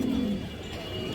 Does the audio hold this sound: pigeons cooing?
yes